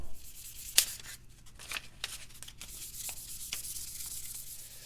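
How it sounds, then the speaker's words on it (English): Hand sanding metal with fine-grit sandpaper at a forge, quiet scratchy rubbing strokes in irregular bursts with one sharp tick near the start, no voices. "now comes the most labor-intensive part of the process, and that's the hand sanding"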